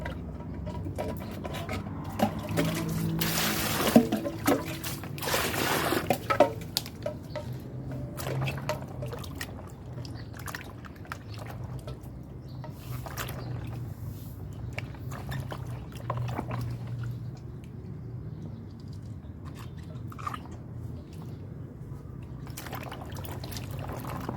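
Indian gooseberries being washed in water, with steady splashing, trickling and dripping throughout and a busier burst of pouring and sloshing early on, close and moderately loud, no talking.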